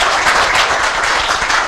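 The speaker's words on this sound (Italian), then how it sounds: "Voglio saperlo con un applauso." Loud, dense audience applause at a community festival event, a continuous roar of many clapping hands heard up close, steady throughout with no voices over it.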